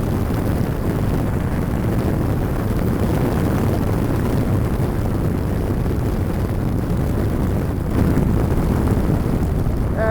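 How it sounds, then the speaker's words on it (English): Turbocharged track car at Laguna Seca heard from inside the cabin, a constant loud, dense engine and turbo roar mixed with wind rush that holds steady throughout. "I can hear a lot going on with that turbo"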